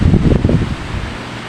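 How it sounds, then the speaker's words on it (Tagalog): Gusty typhoon wind roaring and buffeting the microphone, stronger at first and then easing into a steadier rush. "Grabing hangin ah."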